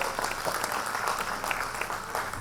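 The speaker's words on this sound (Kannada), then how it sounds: "ನಿಮ್ಮೆಲ್ಲರೂ ಜೋರಾದ ಚಪ್ಪಾಳೆ" Audience at an award ceremony clapping to welcome a guest, a brief burst of dense, fairly faint applause from many hands.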